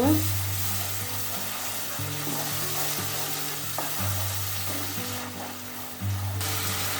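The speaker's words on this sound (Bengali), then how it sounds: "এই যে মশলাটা ভাজা ভাজা হচ্ছে আর একটু হবে" Spice paste with Kashmiri chili powder and pureed tomato frying in oil in a pan, a steady close sizzle with occasional stirring scrapes.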